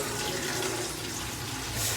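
Water gushes loudly and steadily from a tap to refill a cooking pot, close and continuous, with no talking.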